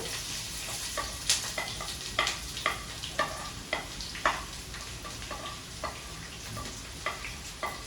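Cumin seeds and onion pieces frying in a pan, a soft steady sizzle with frequent light clicks and taps from stirring, quiet and close, no talk.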